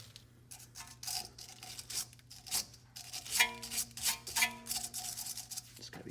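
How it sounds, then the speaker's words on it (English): A chisel scrapes rust off the suspension of a Land Rover Discovery 2, making faint, repeated rasping strokes in an uneven rhythm over a low steady hum. "I'm gonna chisel up all the rust on there."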